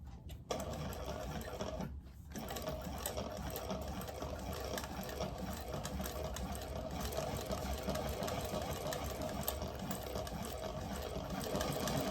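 A sewing machine runs steadily, stitching a seam on a handmade piece, with a continuous motor whir and rapid needle rhythm after a brief pause near the start; close and fairly loud, with no talk.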